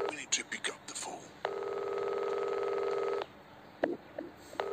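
In the Reporter Chapter 2 video game, a single long electronic phone ring of nearly two seconds sounds between bursts of speech, steady and fairly loud, before stopping, with a voice talking around it.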